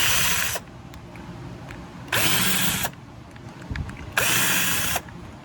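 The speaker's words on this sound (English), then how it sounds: "I use a screw gun." A small screw gun backs out carburetor bowl screws on a Yamaha Timberwolf 250, three short whirring bursts with quiet pauses between them, close and clear.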